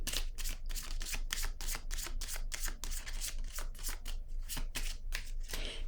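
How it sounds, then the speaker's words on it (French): Tarot cards shuffled and handled in a steady run of quick, crisp riffling bursts, close and continuous throughout with no talking. "je vais déposer une autre carte ici pour comprendre"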